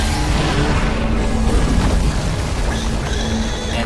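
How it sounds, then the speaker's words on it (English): Command block being destroyed in Minecraft: Story Mode, a loud, sustained rumbling crash with booming impacts that fill the whole stretch, no talk over it. "Time to destroy the command block."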